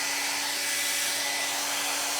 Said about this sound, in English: but I did find a hairdryer, so I can